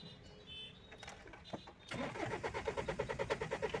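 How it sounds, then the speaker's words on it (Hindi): A Mahindra Bolero diesel engine with low rail pressure cranks but fails to start: a clicking start then a rapid, rhythmic starter churn, close and steady, with someone talking over it. "तो मैं क्रैंकिंग करता हूँ"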